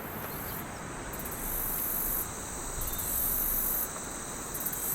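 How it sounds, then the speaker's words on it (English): A game-level insect ambience of dense cricket chirping, a steady high buzzing with pulsing trills over a soft hiss background, continuous and moderately quiet with no voices. "now you can hear that insect layer added to that ambience"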